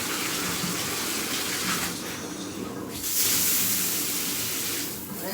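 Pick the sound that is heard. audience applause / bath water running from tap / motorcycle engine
bath water running from tap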